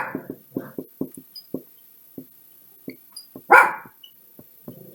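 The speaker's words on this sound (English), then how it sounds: "I apologize for my dog barking in the middle of me trying to do this lesson." A dog barks repeatedly indoors in short, clipped yaps with irregular gaps, one louder and harsher bark near the end, fairly close against an otherwise quiet background.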